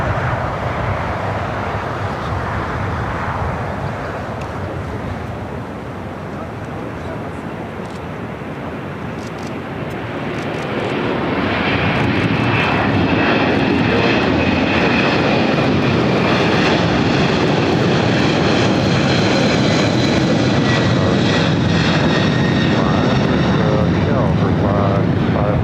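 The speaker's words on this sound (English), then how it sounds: "I got the Northern Air Cargo converted 767, now rolling down to 25 left." A converted Boeing 767 freighter of Northern Air Cargo rolls down the runway at LAX, its jet engines building from a distant rumble into a loud, broad roar with rising whine, while a voice talks over it.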